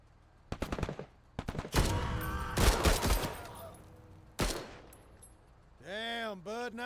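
Video-game gunfire crackles in several rapid bursts and single shots, loud and close, with automatic fire overlapping. A gap follows, and then a tonal whirring effect closes the sequence.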